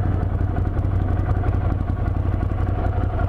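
A Ducati Scrambler motorcycle rumbles at low speed as it slows and pulls over, a close, steady throbbing engine note with light clatter and wind buffeting, no talking.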